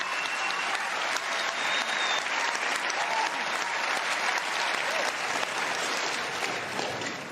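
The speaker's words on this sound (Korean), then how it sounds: "최고상인 앙상블상 후보가 된 한국 배우들에게 기립박수가 쏟아졌습니다" Korean film actors nominated for a top ensemble award receive a standing ovation at a Hollywood event: dense, sustained applause from a large crowd, steady and continuous throughout, with no voices standing out.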